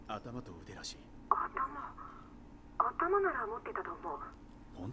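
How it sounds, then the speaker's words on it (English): A phone call in Resident Evil 7 plays as a thin, telephone-filtered voice talking in short bursts with pauses between phrases, fairly quiet and alone. "This phone call is pretty long as well."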